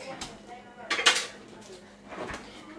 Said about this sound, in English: let's stick this in the sink